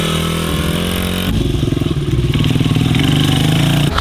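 A 250 dirt bike engine revs hard on the throttle, a loud, close, continuous motor roar that climbs and pulses for about four seconds with no talking.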